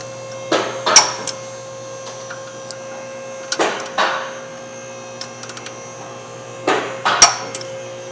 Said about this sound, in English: we're going to use our torque wrench and torque them down to 111